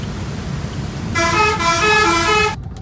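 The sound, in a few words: traffic jam with honking cars on a road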